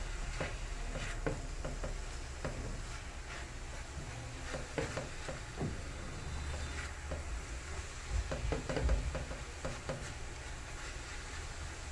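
Steady sizzling of meat sautéing with garlic and salt in a pan, with a spoon stirring and scraping intermittently throughout, close and continuous.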